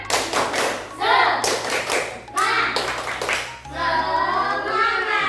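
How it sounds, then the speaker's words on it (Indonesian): A fourth-grade class does a rhythmic spirit clap in an Indonesian classroom, patterned bursts of loud unison claps separated by short pauses, mixed with children's voices chanting along. "Tepuk semangat."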